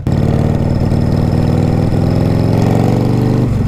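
A rigid-frame motorcycle engine runs loud and close at a steady, throbbing idle with a slight rise in revs toward the end.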